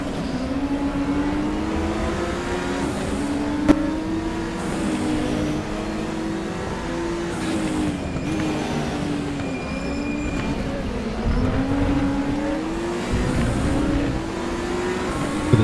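GTR race car in RaceRoom Racing Experience, a loud continuous engine drone whose pitch rises and falls with gear changes through the lap, heard steadily with a brief sharp click partway.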